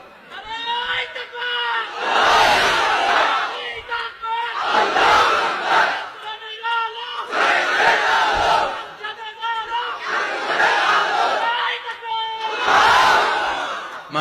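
A large crowd chants the takbir in unison at a religious sermon, loud roaring shouts repeated in four or five waves with pauses between them, with a voice leading in the gaps.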